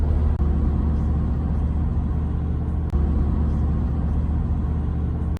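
Steady low rumble of a car driving along the Mulligan Highway near Mount Carbine, a continuous engine and road drone heard from inside the vehicle with a few faint bumps, no talking.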